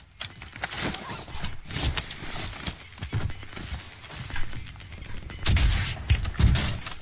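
Gunfire crackles through a shooter video game in dense bursts and scattered single shots, loud and chaotic, with heavy blasts building toward the end.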